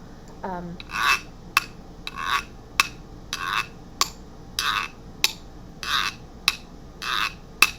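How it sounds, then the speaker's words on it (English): A güiro is played in a steady scrape-then-hit pattern, each ribbed rasp followed by a sharp tap, repeating about eight times in even rhythm, close and clear, after a short vocal sound at the start. "We're going to go scrape, hit, and it sounds really good on the güiro."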